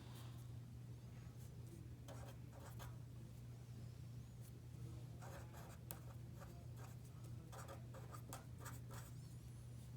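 Handwriting during a math tutorial: faint pen strokes scratch in short bursts across a page over a steady low hum, quiet and close, with no talking.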